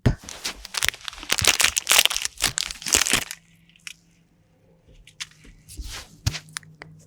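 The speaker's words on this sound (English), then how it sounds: "Let's unwrap the Clark cup." A Clark cup chocolate candy being unwrapped, a close burst of crinkling, rustling wrapper noise for about three seconds, then quieter scattered crackles and handling sounds, with no talking.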